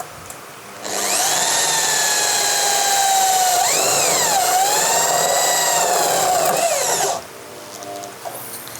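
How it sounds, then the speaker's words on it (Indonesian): An H&L PRO 10RE 400W corded drill drives screws into light steel framing, whining loudly and steadily for about six seconds and dipping in pitch as it loads, then stopping abruptly, with no one talking. "jadi kita coba di proses penyekrupan terlebih dahulu"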